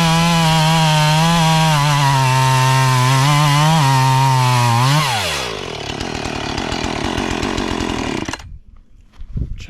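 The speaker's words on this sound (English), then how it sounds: "that old Husqvarna 445 with that 20-inch bar make quick work of this busted off piece of" Husqvarna 445 chainsaw with a 20-inch bar running loud and close, engine pitch wavering and then dropping as it bites into a broken-off piece of wood, the cut continuing before the saw cuts off abruptly.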